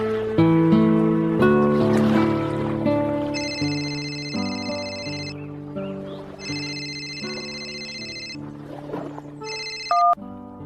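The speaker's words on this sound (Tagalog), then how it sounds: "tinawagan niya ako sa cellphone ko, Papa Dudut." A mobile phone ringtone plays as a radio drama sound effect, a loud melodic electronic tune with repeated bright beeping phrases that runs steadily for several seconds.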